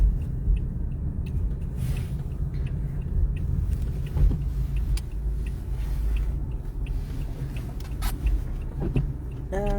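Car driving along a snow-covered road, a steady low rumble of engine and tyres throughout, with faint voices and occasional small clicks inside the vehicle.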